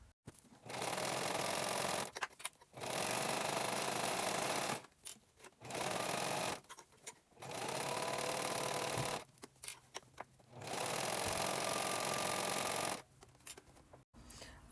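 A sewing machine stitches fabric lining onto a crochet bag in repeated bursts of steady whirring, each run lasting a few seconds and separated by short pauses, fairly close and alone.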